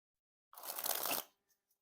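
A deck of Iron Spades playing cards by Roxley Games, thin flexible stock, is sprung in one quick riffling burst lasting under a second, close and crisp, followed by a couple of faint ticks and silence.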